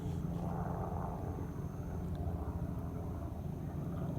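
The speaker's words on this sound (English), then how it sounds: "we've got the chopper taken off from our Questro" A distant helicopter taking off at El Questro gives off a steady low rumbling drone, faint and unchanging, with no voices.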